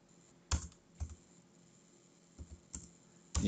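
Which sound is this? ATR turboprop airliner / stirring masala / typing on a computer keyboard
typing on a computer keyboard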